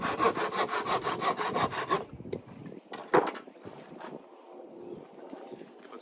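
A handsaw rasps through the end of a wooden bow to cut off a spindle for a bow drill set, fast rhythmic strokes for two seconds, then scattered scrapes, knocks and rubbing as the cut finishes, with light wind noise.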